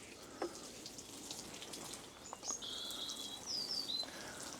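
Water spraying over damp allotment tomato beds, a soft continuous hiss with faint pattering, while birds chirp brightly in the background outdoors.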